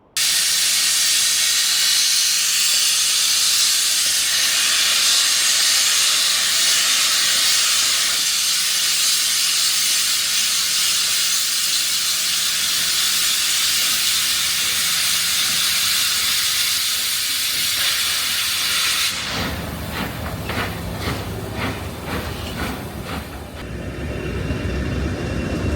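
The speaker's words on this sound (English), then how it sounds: "there is something to pass through Chester Station, a steam locomotive." A steam locomotive passes through Chester station, a loud, steady hissing roar of steam and train noise that holds for most of the time, then shifts into rhythmic clanking of rail wagons rolling by close at hand near the end.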